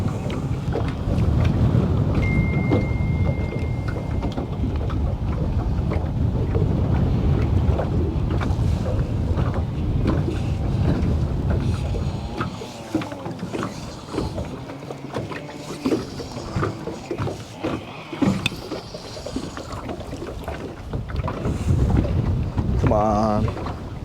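Strong gusty wind, gusting to about 25, buffets the microphone on a fishing boat in a channel, with rumbling bursts, water sloshing, and a voice speaking faintly at times.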